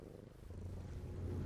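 A cat purrs close by, a faint, low, continuous rumble that holds steady and grows slightly louder toward the end.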